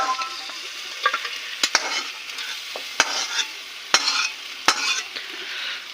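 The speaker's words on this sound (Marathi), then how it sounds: "घ्या फिरवून त्याला व्यवस्थित." Goat paya biryani with potatoes is stirred in a pot, a spoon scraping and clacking against the metal in irregular sharp knocks over a steady sizzling frying hiss, close and fairly loud, with no talking.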